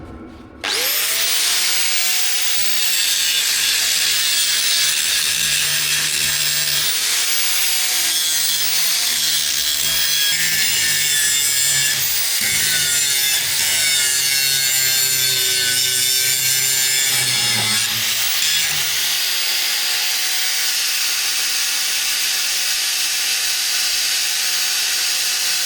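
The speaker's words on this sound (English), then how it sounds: "So the next trick will be to just grind this weld out now, just get rid of this, make this neat." An angle grinder grinds out a weld on a boat rudder, a loud, close, continuous metallic whine that runs unbroken for about twenty seconds before cutting off.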